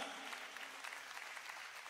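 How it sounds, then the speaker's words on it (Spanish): Dense applause from a church congregation, steady and sustained throughout with no pauses. "hay que darle un fuerte aplauso a nuestro pastor general aquí, Marcos y Lisa."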